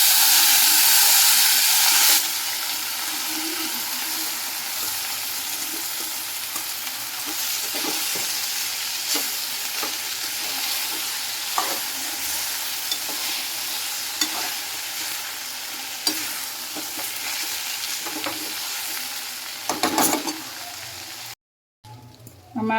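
Boiled rice stir-fried in hot oil with whole cumin, asafoetida and curry leaves, a loud steady sizzle with repeated spatula scrapes and taps against the pan, ending in a brief drop to silence.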